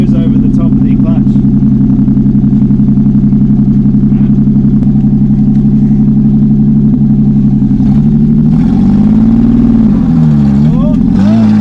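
Old Dodge farm truck, left sitting for over 25 years, driving up out of a hole with its engine droning loud and steady, then revving and wavering in pitch near the end, with people talking over it.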